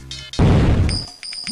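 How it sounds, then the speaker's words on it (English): A loud, booming explosion from the platform video game Jazz Jackrabbit 2 bursts after a brief game tone, then rumbles and decays as higher chiming game effects follow. "I kind of like explosions"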